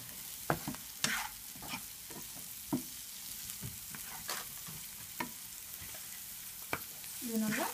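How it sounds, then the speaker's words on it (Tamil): Orange and yellow vegetables for vegetable noodles are sautéed in a pan. Scattered scraping stirs and taps sound over a faint, steady sizzle. "இப்போ நான் ஆரஞ்சும் எல்லோவும் போடுறேன். அதையும் நல்லா சேர்த்து இப்போ வதக்க போகிறோம்."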